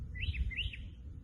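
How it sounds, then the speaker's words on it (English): Two short, bright chirps from a bird in a garden with trees, heard one after the other at moderate distance over a low background hum. "You hear the birds singing? They greet me every day."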